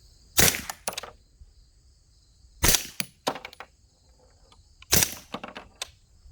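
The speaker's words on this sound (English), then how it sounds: "So I'm just shooting some of our 147 grain Subsonic ammo here." Suppressed shots of 147 grain subsonic ammunition fire in three quick bursts. Each burst is a sharp crack followed by a few smaller reports and echoes, and the sound is fairly loud and close.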